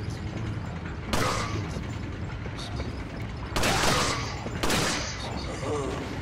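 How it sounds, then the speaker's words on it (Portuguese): A pistol in Resident Evil 4 fires rapid, machine-gun-like bursts in three loud clusters separated by quieter stretches of game ambience and mechanical clicks. "Eu não lembrava que a pistola dava uma rajada de metralhadora assim, não."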